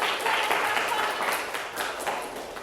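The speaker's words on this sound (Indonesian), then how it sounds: "tepuk tangan sekali lagi buat" Audience in a classroom lesson gives a round of applause for a presenter, a brief burst of many hands clapping that tapers off, with some voices mixed in.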